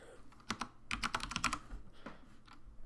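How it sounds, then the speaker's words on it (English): Quick bursts of keystrokes on a computer keyboard, close and crisp, with irregular rhythm and short pauses between words, no voices. "so I can type"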